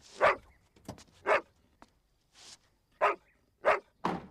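A dog barks in about seven sharp, separate bursts with short gaps between them, loud and close in a quiet setting.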